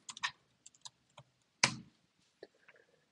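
Scattered keystrokes on a computer keyboard, a few quiet clicks in uneven rhythm with one louder, heavier key thump in the middle, close and isolated in a quiet room.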